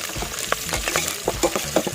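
Tomato bath with green chillies and onions stirred in a pot over an outdoor fire, soft scraping and sloshing strokes with a faint sizzle, several short stirs in quick succession, close and quiet.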